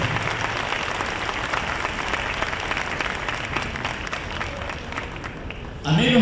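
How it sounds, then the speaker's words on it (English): Steady audience applause at a community assembly with the mayor and commissioners, greeting Mr. Fazio, dense and sustained for several seconds before a voice cuts in near the end. "Vamos a darles al señor Fazio el big round of applause"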